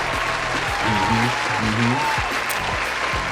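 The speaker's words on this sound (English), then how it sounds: "Let's just put some hand claps in right there for that." Hand claps are inserted as a sound effect, a steady burst of many overlapping claps like applause, loud and continuous.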